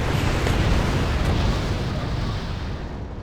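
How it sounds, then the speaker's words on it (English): Hydra missiles strike in the Wargame: European Escalation strategy game, producing a loud, dense roar of explosions that fades slowly over a few seconds. "destroy one after about 64 Hydra missiles hit it"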